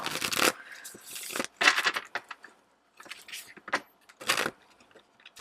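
Bursts of rustling, riffling card sounds with short pauses between them, close up.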